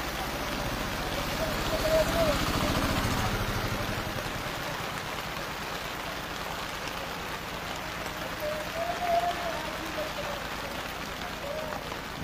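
Steady rain pours under a dark, overcast sky beside a national highway in Kakdwip, with little wind, forming a continuous even hiss that stays moderately loud throughout.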